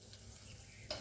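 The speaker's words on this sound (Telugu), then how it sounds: "ఇప్పుడు తాలింపు ఇందులో వేసేసుకుందాము" Hot tempering for a raw mango, green chilli and fresh coconut chutney hits the mixture with a short, sharp sizzle near the end, after a low, steady background hush.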